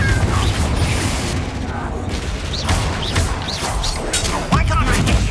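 Fire spell explosions and combat blasts in the Hogwarts Legacy video game, a dense run of booms and crashes with spoken dialogue over continuous battle noise.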